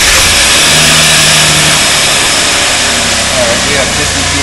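Car engine running during a fuel pressure test, a loud continuous close engine roar with some revving, while someone talks over it.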